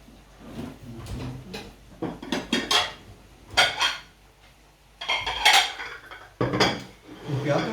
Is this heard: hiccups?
no